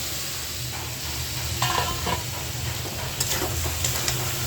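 Potatoes drop into a hot frying pan with a steady broad sizzle, and a utensil scrapes and stirs them in short bursts, close and fairly loud with no voices.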